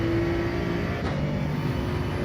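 A Gr.3 race car engine in Gran Turismo 7 at Sardegna Road Track A: a loud, steady droning hum held at high revs, close and continuous with only slight changes in pitch and no speech.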